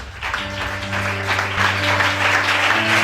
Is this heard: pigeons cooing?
no